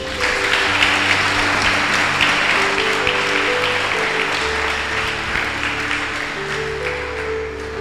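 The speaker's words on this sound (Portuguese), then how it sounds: "Palmas para Jesus." A church congregation claps together in sustained, dense applause for about eight seconds, with faint steady musical tones underneath.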